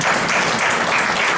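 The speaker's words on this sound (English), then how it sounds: "we can give a round of applause for that" A dense, steady wash of audience applause fills a brief moment at an ASEAN panel discussion, loud and continuous with no voices over it.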